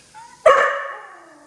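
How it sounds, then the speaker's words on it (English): A dog gives a single sharp, loud bark at a cockroach, close by, with the sound trailing off over about a second in an otherwise quiet room. "You're just barking at him?"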